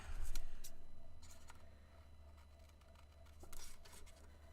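Small craft scissors snipping paper in a few crisp, close cuts, separated by quieter handling sounds and pauses.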